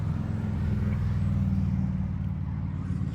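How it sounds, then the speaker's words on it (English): Steady rumble of heavy traffic on a busy road beside a closed-down restaurant, cars and trucks droning continuously and fairly close with no talking. "There's a lot of traffic here on the busy road"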